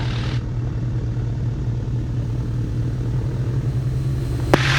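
Twin Commander aircraft engines drone loud and steady with a deep constant hum during departure from the runway, heard from inside the cockpit, with a sharp click near the end.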